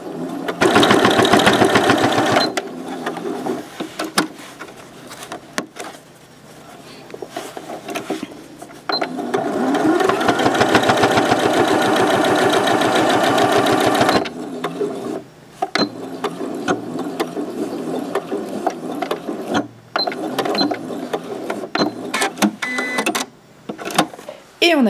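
A sewing machine stitches a fabric hot water bottle cover in several loud, close, rapid bursts separated by short pauses, with someone talking between and over the runs.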